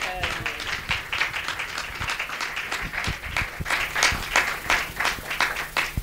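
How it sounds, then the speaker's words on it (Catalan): A crowd applauds the Reus grandparents' collective at the opening of a photo exhibition, a steady wash of many hands clapping for several seconds while voices carry underneath. "un fort aplaudiment per aquest col·lectiu d'avis i àvies de Reus per la llibertat"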